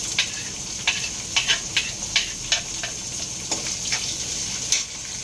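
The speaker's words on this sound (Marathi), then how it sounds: "मिरची नंतर आपण टाकणार आहोत कांदा" Onion hitting a hot pan of garlic, cumin, curry leaves and green chili tempering for a quick phodnicha bhaat, giving a steady sizzle and fry with scattered crackles and pops through the whole stretch.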